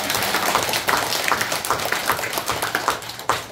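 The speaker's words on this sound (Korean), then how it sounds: "박수 한번 부탁드립니다" An audience at a Buddhist temple dharma talk at Mireuksa claps together, a dense patter of many hands that holds steady for a few seconds and then tapers off unevenly.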